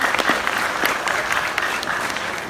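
An audience at a motivational business event in Kuala Lumpur applauds: loud, sustained clapping from a large crowd that holds steady for a couple of seconds and eases slightly at the end.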